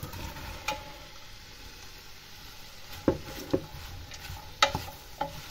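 Cabbage and onions fry in a pan over raised heat with a steady soft sizzle, while a utensil stirs and scrapes with several sharp knocks and clacks close by.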